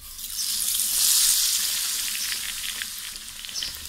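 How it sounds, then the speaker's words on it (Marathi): Maggi pakoda coated in besan batter sizzles steadily in hot oil over a low gas flame, a dense, even crackle that swells slightly and then holds, with no talking. "आता आपण बेसनमध्ये पकोडा घालून घेऊया आणि आता तळायला घेऊया"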